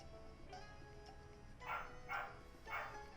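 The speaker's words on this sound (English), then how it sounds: "I'm so mad that the dog is barking right now." A dog barks indoors three times in quick succession, fairly loud and close, over a steady low room hum with no talking.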